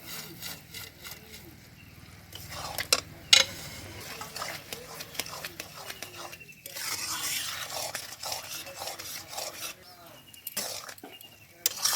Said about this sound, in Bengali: ভালো মতন মিশিয়ে নেব আমি বুদিয়া দিয়েও পাঁচ মিনিট ভালো করে মিশিয়ে নিলাম রসটাকে